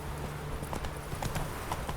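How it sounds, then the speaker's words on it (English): A horse's hooves clip-clop steadily up a winding path in The Witcher 3, an even rhythmic trot heard close under continuous game ambience. "Is the horse better at following this path than I am?"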